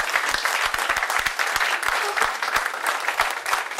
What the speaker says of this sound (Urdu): تالیاں بہت تھی.